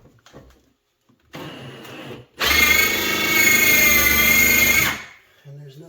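A power drill bores through material during a Samsung Wi-Fi stove installation, whining loudly and steadily for about two and a half seconds after a softer earlier burst, then stopping, with quiet sounds before and after.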